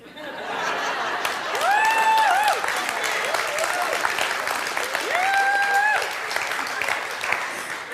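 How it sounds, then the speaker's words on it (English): A church congregation claps in sustained applause lasting several seconds, with a few voices whooping and cheering over the clapping. "I guess by the applause"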